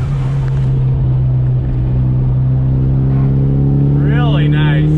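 A 1997 Mitsubishi Eclipse GSX drives along, its engine holding a steady, close, droning hum inside the cabin, with someone talking over it throughout.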